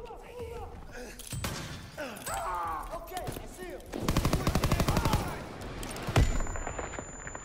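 Gunfire in a Call of Duty WW2 D-Day battle: scattered single shots, then a rapid machine-gun burst and a sharp blast, loud and close, with someone talking between the shots.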